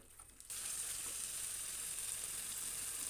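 Mutton fat frying in a pan over a high flame: a bright, steady, hissing sizzle bursts in suddenly after a quiet half second and continues unbroken and close, with no talk.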